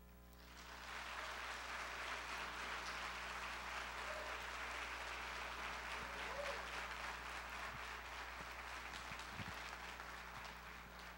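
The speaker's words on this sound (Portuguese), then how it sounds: "Vamos aplaudir o Senhor." A church congregation bursts into sustained applause after a brief pause, a dense, even wash of many hands clapping that continues strongly to the end.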